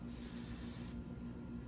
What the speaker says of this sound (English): we're just going to spray a little bit